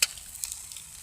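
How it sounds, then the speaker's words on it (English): An egg cracked onto a hot buttered griddle for a breakfast sandwich: a sharp crack at the start, then a faint, steady sizzle of frying. "take your egg, crack your egg on there"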